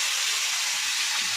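Fish fries in hot mustard oil in a covered pan, a steady loud hiss of sizzling oil with no break and no voices.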